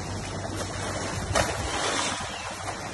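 Steady rushing of floodwater in a raging river swollen by record rains in far north Queensland, a dense, wind-buffeted roar with no voices.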